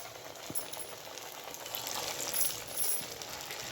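Shaped vadas, patty-like fritters, fry in hot oil with a steady broadband sizzle that swells slightly louder midway, with a few faint clinks and no voices.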